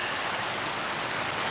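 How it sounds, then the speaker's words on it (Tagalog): Heavy, nonstop rain pours down in a steady broadband hiss on a rainy Saturday, constant and even with no breaks, moderately loud and without any voices. "Lakas na naman ng ulan. Walang tigil hanggang kanina pang umaga."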